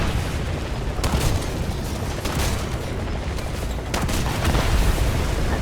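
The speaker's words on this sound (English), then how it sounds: "that rocket flying over my head absolutely terrified me" Rocket and tank explosions in a video game, a dense, rumbling wash of booms and gunfire with a couple of sharper blasts standing out, loud and continuous with no talking.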